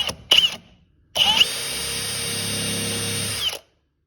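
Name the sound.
power drill drilling for library bookshelves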